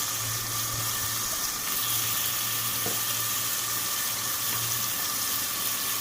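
Masala spices with red chilli and coriander sizzling in a pan for desi mutton pulao, a soft, even hiss with a low hum underneath and a single faint tap, no talking.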